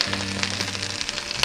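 A dab of butter sizzles and crackles in a hot crepe pan, a close, continuous frying hiss with small pops and a faint hum underneath, with no talking.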